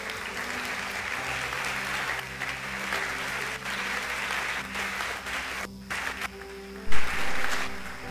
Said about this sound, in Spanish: Dale un aplauso fuerte al Dios.